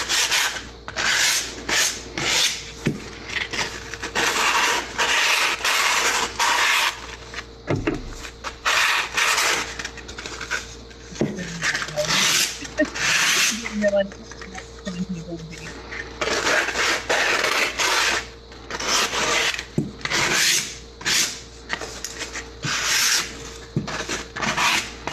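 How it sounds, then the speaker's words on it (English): Hand sanding the freshly cut edges of a small wooden cornhole board gives a steady, close, loud rasping scrub in repeated strokes for about twenty-five seconds, with only brief breaks. "So we're going to give this a very quick sand."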